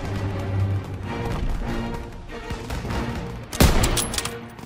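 Gunfire in Call of Duty: WWII during a street battle: a dense, continuous stretch of rattling shots under the background din of combat, with one louder blast near the end.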